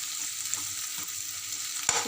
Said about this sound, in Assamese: এনেকৈ পিঁয়াজখিনি ভাজি থাকিব।